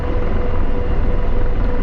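An AH-64D Apache helicopter in a VR game drones with a loud, steady low rotor and engine rumble, continuous and close, with no talking over it.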